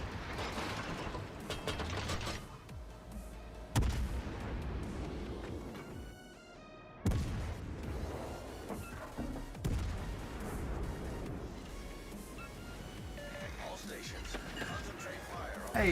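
Video game gunfire, bursts of sharp shots and booming blasts scattered across the scene, heard under frequent excited talking from a player.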